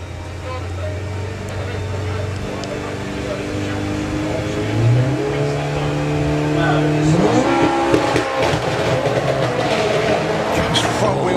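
A Mark 1 Volkswagen Golf drag car's engine roars up from idle and revs hard as it launches at a drag strip, with rising harmonic whine and loud mechanical rumble.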